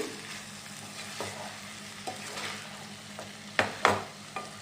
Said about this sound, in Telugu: మనం స్పీడ్గా కలపకూడదండి ముక్క అయిపోద్ది రైస్ స్లోగా ఇలా అనుకోవాలి